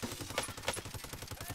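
Rapid automatic gunfire from a PP19 Bizon submachine gun in the Modern Warfare shooter game, a dense steady burst of close shots rattling continuously with a couple of sharper cracks, no talking.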